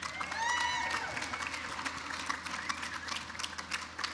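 Sustained crowd applause at a women's day community awards celebration honoring award winners, a dense, steady wash of clapping from a large audience with a few brief cheers near the start.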